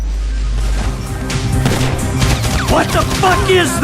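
Gunfire in GTA 5 sounds as a burst of sharp, loud shots cracking in quick succession, amid game noise and someone talking.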